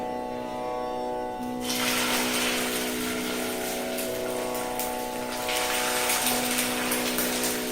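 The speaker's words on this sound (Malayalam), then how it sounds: "ഈ മിശ്രിതം കുറേശ്ശെ കോരി ഒഴിക്കും." Beaten egg mixture for a Mexican omelette is ladled into hot oil, and a loud sizzling hiss breaks out after a quieter start and carries on over a steady background hum.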